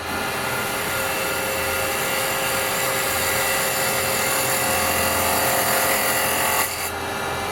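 A small wooden bowl spinning on a wood lathe while a carbide tool cuts it, a loud continuous whirring scrape held close for several seconds that cuts off abruptly near the end.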